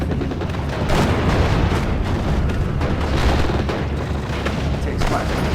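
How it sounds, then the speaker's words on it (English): Artillery shelling in the World War II strategy game Steel Division: Normandy 44, a dense, continuous rumble of heavy booms and blasts, loud and sustained, with a voice talking over it. "I just start shelling these fields over here"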